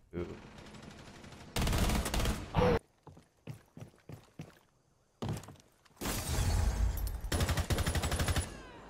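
Gunfire in the video game Rainbow Six: a sustained rapid automatic burst, then a string of separate clicking mechanical shots, then more long loud rattling bursts, fairly close and dominant.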